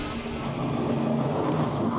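A race car drives on a circuit during a 2015 ELITE 2 semi-final at Magione, a dense, steady engine roar with road noise holding at an even level throughout.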